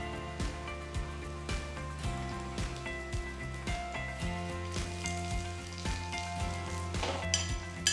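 Onions, dried red chillies and curry leaves frying in oil for a chutney give a steady, close crackling sizzle that runs unbroken from start to finish.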